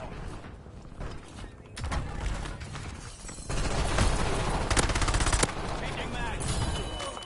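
A mechanical magazine swap from a video game gun, with clicking, rattling metal handling set against ongoing loud gunfire and a dense combat din.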